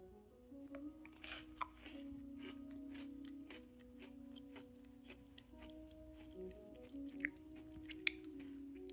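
Crunchy quinoa-flavoured Pocky sticks are chewed up close, giving repeated crisp bites and crunches in an irregular rhythm over a quiet low hum, with no talking.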